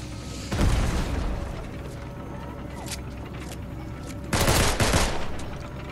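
Gunfire in Fortnite, two loud booming bursts of shots a few seconds apart over a steady game background hum, fairly close and punchy.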